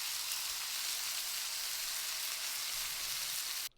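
Steaks laid in a hot skillet with olive oil sear with a steady, bright frying hiss that holds evenly for a few seconds, then cuts off abruptly.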